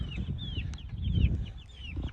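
Barred Rock, Americana and Buff Orpington chickens cluck and chirp inside a coop built from pallets, a steady run of soft nearby calls layered with higher peeps over low rustling.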